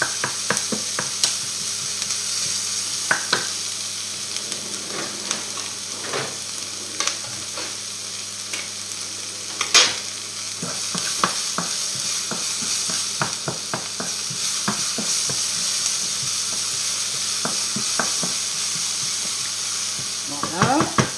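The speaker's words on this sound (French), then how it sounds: "On fait bien blanchir notre ail et nos oignons." Garlic and onions sizzle steadily in a pan, with a constant broadband frying hiss and frequent clicking scrapes of a utensil stirring them, continuous and close throughout with no talking.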